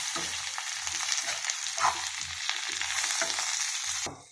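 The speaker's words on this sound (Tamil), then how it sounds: "இப்போ கருவாடு போட்டுக்கோங்க. தனியாத்தூள், மஞ்சத்தூள், மிளகாத்தூள் போட்டுக்கலாம். கொஞ்சம் வதக்கிக்கணும்." Close, steady sizzling of dry fish with vegetables and coriander, turmeric and chili powders frying in a pan, with periodic soft scraping as it is stirred, ending in a brief clatter; no talking.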